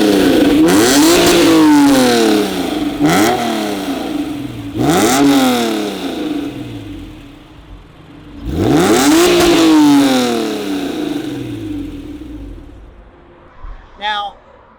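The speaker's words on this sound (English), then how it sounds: "NSX does deliver a sound that comes from its VTEC engine" A Honda NSX with a VTEC engine revs repeatedly, several sharp rising and falling bursts of a loud, close mechanical engine note separated by quieter idling gaps, fading near the end.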